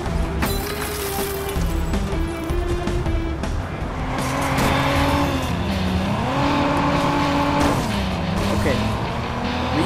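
A car in Watch Dogs roars along with engine pitch sweeping up and down and tires squealing through turns, loud and close, while someone talks over it.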